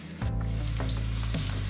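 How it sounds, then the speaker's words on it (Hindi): Ginger and garlic sizzle in hot oil in a pan, a loud continuous close-up frying hiss with a brief stir-like shift partway through. "इसमें डाल देंगे अदरक, लहसुन। इनको 1 से 2 मिनट पकने दें"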